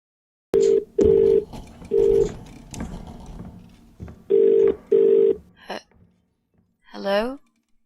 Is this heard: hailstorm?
no